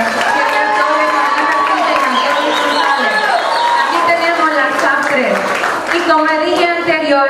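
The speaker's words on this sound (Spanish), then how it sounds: "Un fuerte aplauso de nuevo a estas chicas" Audience at a Miss Latina New Jersey 2010 pageant finals applauds and cheers the contestants, a loud, steady wash of clapping and shouting with an announcer's voice running over it throughout.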